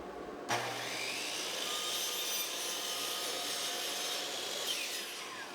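A power saw cuts through a wooden fence picket for a birdhouse roof, starting abruptly with a steady, loud whining rasp that holds evenly for several seconds.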